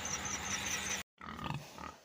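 Sows on a farm grunt and squeal close by, a short burst of harsh pig noises that cuts off abruptly, then softer low grunts resume, with no talking over them.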